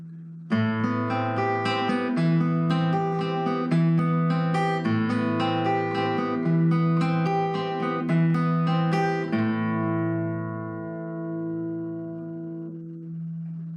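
Acoustic guitar playing a piece at a slightly quicker tempo, a steady driving pattern of repeated bass notes under ringing upper notes, close and solo, ending on a sustained chord that fades out.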